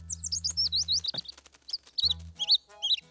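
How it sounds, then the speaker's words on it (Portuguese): Cartoon baby bird that has fallen from its nest in a winter scene, giving a run of high, quick chirps and tweets, some rising and falling, with a short pause midway and a low hum underneath. "Coitadinho do passarinho, bebê. Ele deve ter caído do seu ninho."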